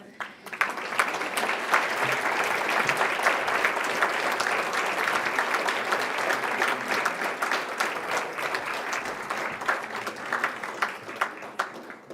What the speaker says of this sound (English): I think we're just going to take a moment and applaud these.